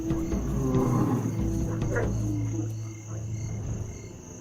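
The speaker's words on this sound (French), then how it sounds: "Son rugissement ressemble davantage à une salutation qu'à une menace." A South African lion lets out a deep, rumbling roar close by, low and sustained, over a constant background of insects in the wild.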